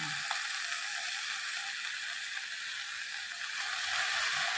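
Leafy greens with garlic, chilli and salt frying in hot oil in a home kitchen, giving a continuous, even sizzle and crackle that holds steady throughout with no voices.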